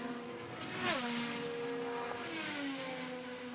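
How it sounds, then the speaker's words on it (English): A 2023 IndyCar race car engine screams at high revs on a qualifying lap, its pitch dropping as it lifts and shifts, a steady loud drone with no talk over it. "Just hearing the car singing around."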